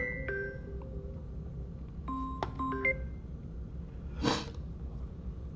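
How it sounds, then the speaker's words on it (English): A mobile phone goes off with a few short bright electronic tones near the start and a cluster of chiming notes a couple of seconds later, over a low background hum, with a brief breathy rustle toward the end. "Sorry, my phone's going off."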